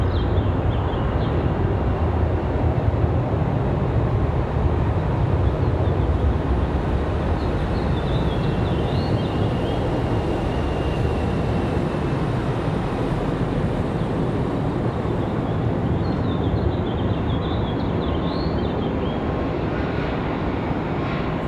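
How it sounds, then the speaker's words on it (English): A Charlotte-bound airliner lands at Raleigh-Durham airport as a loud, continuous jet-engine roar that holds steady throughout, heard close and without voices. "So we'll have a Charlotte arrival."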